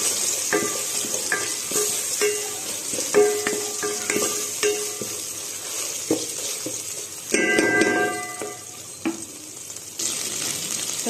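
A spoon scrapes and taps against a pan while a bagara rice mixture gently sizzles on low flame, with repeated metallic clinks over a soft, steady frying hiss.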